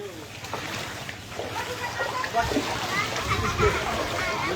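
A boat moves through floodwater in Sherpur during the 2024 Sylhet flood, with steady close sloshing and splashing under continuous talking voices.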